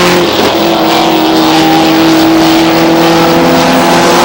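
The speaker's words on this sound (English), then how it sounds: "Storr burning that right rear, trying to hang on the outside, get around Seymour" Race cars roar around the oval at Star Speedway in 1993, a loud sustained engine drone with steady pitch from cars running close together, no voices.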